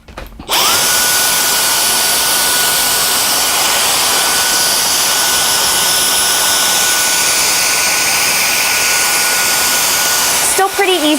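A Dyson Digital Slim cordless vacuum cleaner starts up and runs with a loud, steady high-pitched whine and airy rush, close by, then cuts off near the end.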